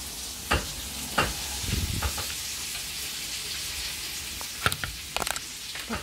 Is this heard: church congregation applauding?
no